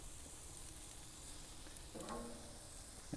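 Flat iron steak sizzles on a grill as a soft, steady hiss. A brief louder crackle comes near the end.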